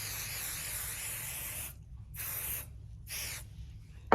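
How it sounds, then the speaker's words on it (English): 505 spray adhesive hisses from an aerosol can onto quilt backing fabric, a long close continuous spray followed by two shorter bursts separated by brief pauses. "505 spray, it really helps to smooth it out and adhere it to your backing fabric."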